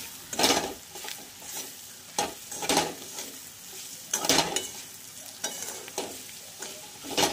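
Bitter gourd (karela) pieces frying in a pan over medium heat, with a steady sizzle broken by several loud scraping stirs of a spatula against the pan at irregular intervals, close up.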